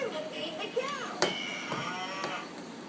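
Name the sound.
toy farm vehicle cow mooing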